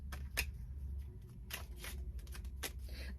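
A tarot card is pulled from a deck, making a few short papery slides and snaps, close and fairly quiet over a low background hum.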